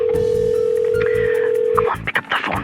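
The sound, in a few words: telephone ringing tone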